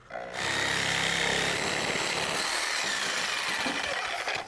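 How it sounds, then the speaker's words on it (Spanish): A power saw fitted with an 8-inch wood blade cuts a deck board flush during deck construction, starting abruptly and then whining loud and steady at close range for about four seconds, without talk. "colocar la placa de la sierra contra la tabla y empujar"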